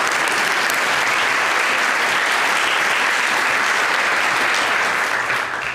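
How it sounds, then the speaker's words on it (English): A college honors cording ceremony audience applauds the Provost with loud, dense, continuous clapping that fills the room evenly from start to finish. "Let's give a round of applause to the Provost."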